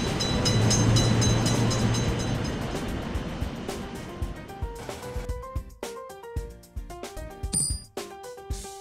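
A train rolls through a level crossing in a railroad crossing simulator game, a loud rumbling rush that fades after a few seconds into clinking, ringing tones and short electronic game sounds.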